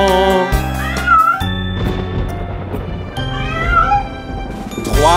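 Loud, close meowing of kittens rings out in repeated high, wavering cries over a steady tonal musical backing, like cats calling in a French nursery rhyme song.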